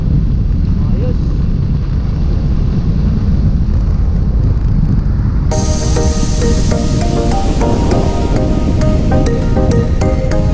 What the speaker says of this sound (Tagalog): Tagas na hangin dito.